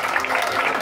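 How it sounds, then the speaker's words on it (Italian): Crowd applause at a cosplay contest, a dense, steady wash of clapping that fills the short moment without a break. "Un applauso a Ruggero da Pescara!"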